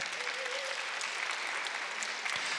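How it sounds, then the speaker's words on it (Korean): An audience at a church forum applauds to welcome a speaker, with steady, dense clapping from many hands filling the room for a few seconds. "예, 박수로 환영하겠습니다."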